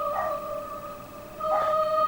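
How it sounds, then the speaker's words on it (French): Dogs let out two drawn-out howls on a roadside, fairly loud and close, with a short lull between the rising wails. "Ele tá brigando com os cachorros agora."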